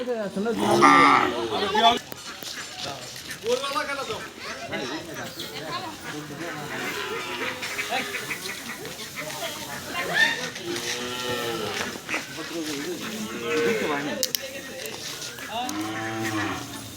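Cattle being restrained for a free vaccination drive by a local livestock office moo repeatedly in drawn-out calls, close and loud, while several people talk and shout around them.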